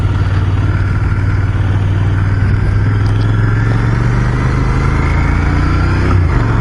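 A Royal Enfield Continental GT 650 motorcycle pulling away in first gear, its engine droning loud and close with a steady low hum that climbs slightly, rider silent.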